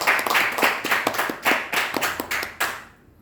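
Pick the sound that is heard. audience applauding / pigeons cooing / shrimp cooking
audience applauding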